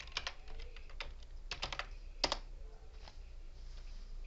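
Fingers tap a computer keyboard while text is typed in a Word editor, making quick, faint clusters of close key clicks with short pauses between bursts.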